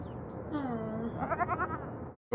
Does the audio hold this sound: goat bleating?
yes